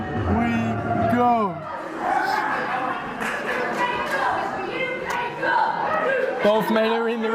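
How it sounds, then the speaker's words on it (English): A wrestling crowd at a steel cage showcase chants and cheers in rhythmic bursts, with whistles and shouts, loud and continuous throughout, broadly filling the arena. "listen to that crowd chanting for the whole promotion"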